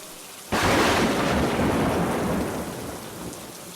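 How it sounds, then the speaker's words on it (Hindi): Heavy rain suddenly bursts in with a loud thunderclap, then keeps pouring steadily as the rumble fades. "ऊपर से ये बारिश।"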